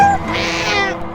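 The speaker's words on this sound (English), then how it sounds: "Laura Bricker, do we have a cat of the week this week?" A single cat meow, drawn-out and rising then falling, heard loud and close with no talk.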